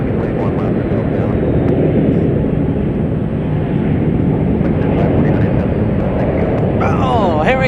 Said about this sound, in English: A 777 heading out of here.